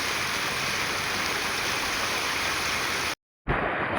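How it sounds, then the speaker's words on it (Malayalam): Floodwater gushing past a temple road, a loud, dense, steady roar of rushing water up close that cuts out briefly near the end and then resumes. "ഇതിന്റെ വെള്ളം കുത്തി ഒഴിച്ച് വരണുണ്ടോ അവിടെ."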